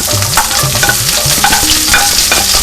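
Onions dropped into hot ghee with browned cumin seeds for a bhindi fry, a loud, close, continuous sizzle and crackle with stirring scrapes, alone without talking.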